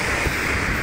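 Sea waves wash against a rocky, shallow shore in a rural Philippine province, a steady close roar of surf mixed with wind buffeting the microphone.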